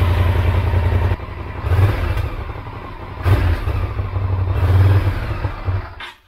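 A Honda VTR 1000 motorcycle engine runs at idle after carburetor cleaning, with a close, loud, steady low rumble that dips and swells slightly, then cuts out at the end.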